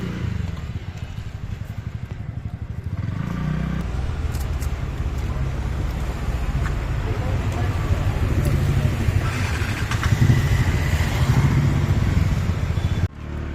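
A motorcycle runs close by on a road with a continuous low engine drone, clattering and some revving, steady and fairly loud for over ten seconds with surrounding traffic noise and voices mixed in.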